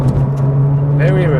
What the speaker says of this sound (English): You're reminded that this flat six is one of the best.